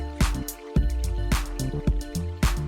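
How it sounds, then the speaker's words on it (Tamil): Chicken marinated in yogurt being mixed into sautéed ginger and garlic in a pan for a spicy gravy, heard as close, wet squishing and sticky stirring strokes repeating in a quick, uneven rhythm. "இஞ்சி பூண்டு நல்லா வதங்கின பிறகு சிக்கனை இது கூட சேர்த்து நல்லா கலந்து விட்டுக்கலாம்"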